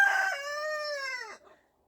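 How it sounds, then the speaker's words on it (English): A single rooster crows on a farm, one long, loud, close cock-a-doodle-doo holding steady and then breaking off, followed by a short tail of quieter sound and silence. "Our roosters always have something to say."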